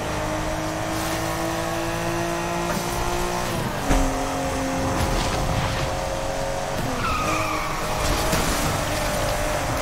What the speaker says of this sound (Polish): tym GTR-em się zajebiście driftuje